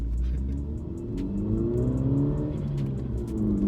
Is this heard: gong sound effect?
no